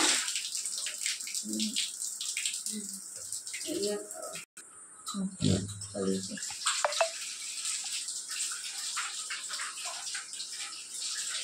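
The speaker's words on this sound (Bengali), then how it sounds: "এবার এটা আমি মাথাটা ধুয়ে ফেলছি কলের গোড়ায় নিয়ে নিই মাথাটা" Water runs steadily from a tap as hair is washed out after a henna treatment, a continuous close hiss with splashing, while voices talk over it.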